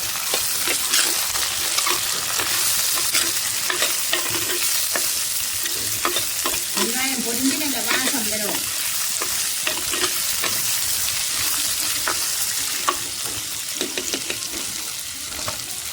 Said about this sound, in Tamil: வெங்காயம் நல்லா பொரிஞ்சு வருது இப்போவே நல்ல ஒரு வாசம் தருது இன்னும் கொஞ்சம் நல்லா பொறிக்கிறது